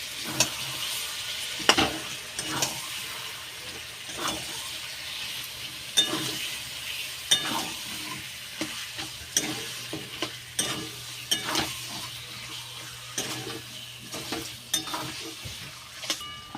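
Chicken stir-fried in a pan for chicken do pyaza, a soft sizzle underneath with repeated scraping and clinking strokes of a spatula against the pan, at a fairly quiet level.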